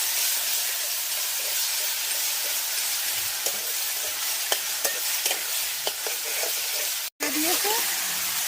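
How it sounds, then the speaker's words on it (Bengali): Ground spice paste frying in a pan while cooking fish with potatoes, giving a steady hissing sizzle with occasional scraping clicks from stirring, a brief dropout near the end. "এই যে মশলাগুলো আমি বেটে নিয়েছিলাম তার মশলাগুলো ভালো করে কষিয়ে নেব"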